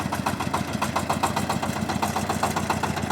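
A Shifeng 240 mini tractor engine running after winter while spreading fertilizer, with a close, steady, rapid mid-pitched chugging that keeps an even knocking rhythm and no voices.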